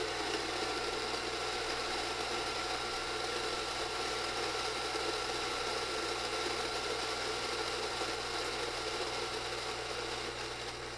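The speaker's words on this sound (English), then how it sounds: "It's not a quiet grinder, but it's not horrifically loud either." A Rancilio Rocky coffee grinder grinds beans with a continuous, moderately loud mechanical whir and rattling burr texture, steady for the full stretch with no voices.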